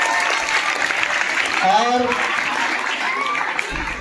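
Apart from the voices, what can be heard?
applause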